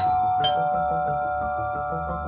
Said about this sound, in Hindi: पुलिस फ्लैट पर पहुंची और डोरबेल बजाई,